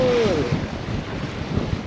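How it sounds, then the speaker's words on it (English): Strong wind buffeting the microphone beside Black Butte Lake, a steady rushing roar with low gusty thumps throughout and no talking. "It is too windy"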